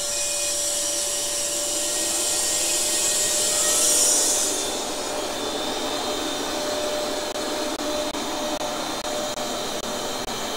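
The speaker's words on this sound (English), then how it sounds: "we are going to start an evacuation, and we are going to see how long it takes to get down to a vacuum" A NAVAC vacuum pump evacuating a refrigeration system runs as a steady, loud mechanical drone throughout, with a brief surge in its whine partway through and no talking.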